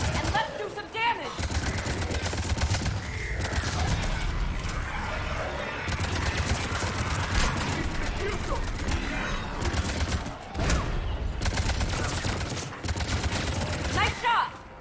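Rapid bursts of gunfire from a battle in Mass Effect 3, dense repeated shots over a steady rumble of combat, with brief gaps, loud and sustained throughout.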